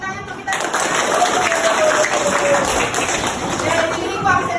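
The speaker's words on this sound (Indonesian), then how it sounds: "Tepuk tangan untuk kita." Children clap together in a classroom, a dense, steady patter that starts abruptly and holds loud throughout, with voices mixed in.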